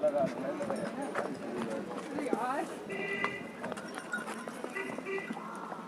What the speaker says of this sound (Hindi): मेरा घोड़ा चल रहा है।